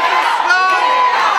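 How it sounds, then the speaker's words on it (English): An agitated crowd at a community meeting shouts and jeers angrily at project developers, a dense wall of overlapping raised voices that stays loud and sustained throughout. "It did not take long for the crowd to turn on them."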